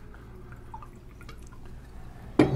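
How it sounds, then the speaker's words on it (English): A 2008 Inca Torrontes white wine from Argentina is poured into glasses, with a short, sudden liquid splash and trickle near the end after a quiet stretch of room tone. "It really saves the tablecloth when you're pouring wines for your guests."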